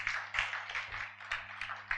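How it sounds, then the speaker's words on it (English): Audience applause for presenters at a formal presentation session, steady overlapping claps heard faintly over a low constant hum. "give them another round of applause."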